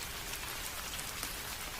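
Steady rain falls in a dense, even hiss of drops striking surfaces, heard alone at a moderate level with no voices.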